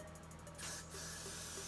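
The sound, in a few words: spraying freeze spray on hair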